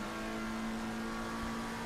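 A McLaren 720 engine drones at steady high revs in a racing video game during an Italian race round, a continuous tonal hum with no breaks, fairly loud and heard without talk.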